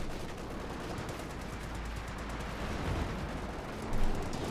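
Light machine gun fire in Company of Heroes 2, a dense continuous crackle of rapid shots with battle noise, steady and loud throughout.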